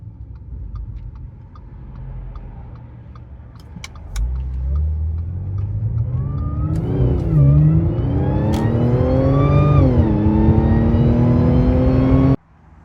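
A tuned 500-horsepower Audi S4 B8.5 with a 207mm big crank pulley idles with faint ticking, then revs up loud and close, its pitch climbing steadily for several seconds before cutting off abruptly.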